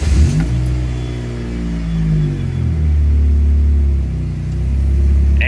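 A 1995 Mitsubishi Eclipse engine runs in neutral with the clutch released, a loud steady close rumble with slight swells in pitch throughout, alone without speech.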